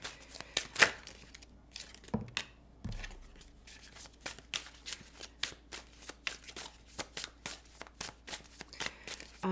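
Tarot cards being shuffled by hand, a dense run of close, crisp riffles and flicks with uneven rhythm, a few louder slaps near the start, and no talking over it.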